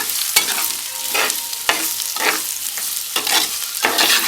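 Chopped large onions being stirred in a pan for a Kerala-style egg roast, with repeated scraping strokes of a spoon at a steady rhythm over a light frying hiss, close and fairly loud, no talking.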